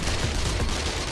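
Automatic AP-ammo gunfire in 7 Days to Die, a dense, loud burst of overlapping shots filling the whole moment without pause.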